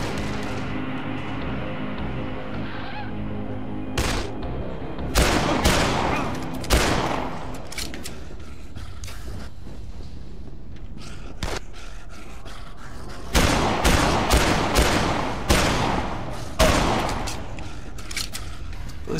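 Pistol gunfire from the Dead Island video game, a loud burst of shots around five to seven seconds and another rapid volley near fourteen to seventeen seconds, with sharp close bangs and game background between.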